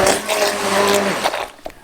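A stick blender mixing soap batter, a steady whirring motor hum that runs briefly and then cuts off, close and fairly loud, with no talk.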